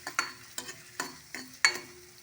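Onions and green chillies fry in ghee until reddish: a soft, steady sizzle broken by several sharp scrapes of a stirring spoon against the pan, close and without talk.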